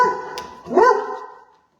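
A single close dog bark with a whiny, yelping pitch rise, fairly loud, then fading to silence.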